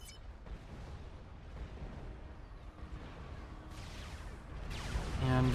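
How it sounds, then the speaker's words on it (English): Missile impacts and explosions rumble through a real-time strategy battle in Supreme Commander: Forged Alliance, a continuous low booming barrage with sharper blasts breaking out near the end. "And the missiles fly in from those spearheads."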